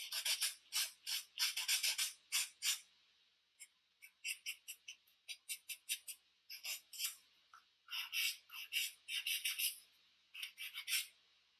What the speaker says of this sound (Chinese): 打磨甲面。